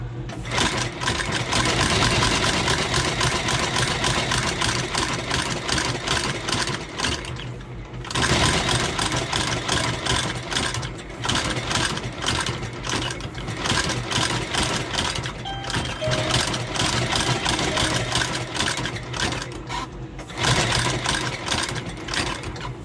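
A sewing machine stitches a new Dainite sole onto Thursday Boots Captain black boots. The loud, rapid mechanical clatter runs nearly continuously, broken by a few short pauses and restarts.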